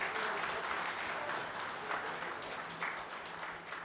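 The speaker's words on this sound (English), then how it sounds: "can I please request you all to give a big round of applause?" An audience at an awards ceremony in Phuket, Thailand, gives a steady round of applause, dense at first and easing slightly, heard alone without speech.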